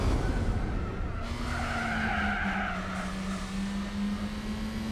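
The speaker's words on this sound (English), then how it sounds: "The engine sounds horrible" A race car in Gran Turismo 4 runs flat out with a thin, steady engine drone, its tires squealing and skidding across the whole stretch, loud and continuous with no voices.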